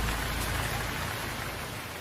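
Steady rain falls in a thick, even hiss, close and constant for a couple of seconds.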